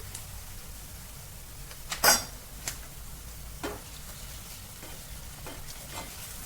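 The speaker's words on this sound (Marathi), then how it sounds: "याला छान तेल सुटेपर्यंत आपण आता भाजून घेणार आहोत" Ground masala paste is fried with onion and tomato in oil in a pan. A soft, steady sizzle runs throughout at low volume, broken by a few scraping, clinking stirs, one sharper clatter among them.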